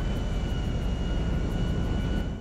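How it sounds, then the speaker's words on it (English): In Grand Theft Auto V, a Nimbus airplane drones steadily on its landing approach, a constant engine hum with a faint pulsing beat, heard alone. "We are going in for a landing."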